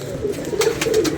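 Pigeons coo in a loft in a short burst of low, rolling coos that sit close and fairly loud, with no talking over them.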